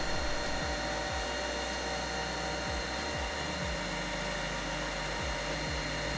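A Lobo LH-40TC auto copy shaping machine runs with its 7.5 horsepower, 1.25 inch spindles spinning, a loud constant high whine over a low hum with periodic low thumps, close and without talk.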